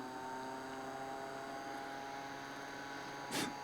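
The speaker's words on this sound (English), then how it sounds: "I can hear the fan." A cooling fan inside a Parkside PKB 20-Li A2 20V cordless cooler warmer box runs as a faint, steady hum with a constant tonal whine, and a brief soft click comes near the end.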